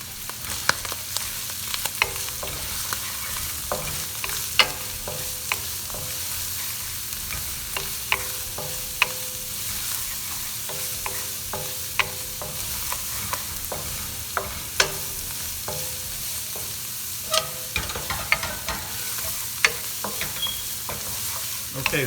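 Stuffed mushroom filling seasoned with onion powder sizzles steadily in a pan while a utensil scrapes and stirs it, producing frequent close clicks and taps over a constant frying hiss.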